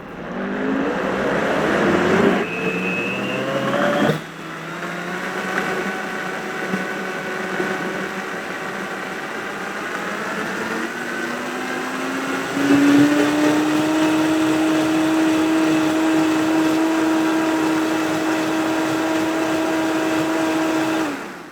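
An old, long-used kitchen blender whirs continuously up close, its motor pitch shifting as it works through tofu dessert ingredients, with a couple of abrupt speed changes and a steady higher whine toward the end.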